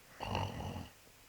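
A single low, rumbling snore lasting under a second, rough and guttural, close by, followed by quiet.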